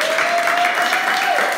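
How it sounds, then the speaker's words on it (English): A short burst of crowd clapping at a dance club event, even and fairly loud throughout, with a faint steady tone running beneath it. "give yourselves a round of applause"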